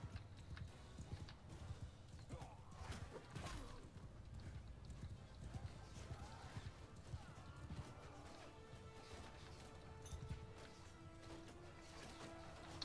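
Cavalry horses gallop in a massed charge in the Mount & Blade Bannerlord video game, a dense drumming of hooves mixed with whinnies, clashes and distant shouting, with faint tones beneath.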